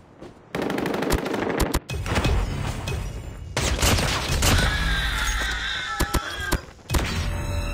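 Rapid automatic gunfire from a deployed sentry gun in Call of Duty Mobile multiplayer, loud bursts of shots with short gaps and a few heavier thuds, no talking.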